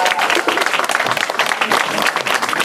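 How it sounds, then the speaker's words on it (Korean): An audience applauds the band at the end of a live talk show concert, with loud, dense, continuous clapping and some crowd noise. "우리 밴드 여러분들께 한번 박수 한번 부탁드리겠습니다"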